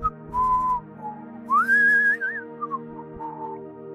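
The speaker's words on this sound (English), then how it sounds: "whistling." A person whistles a short, wavering tune alone, clear and close, with a rising phrase in the middle.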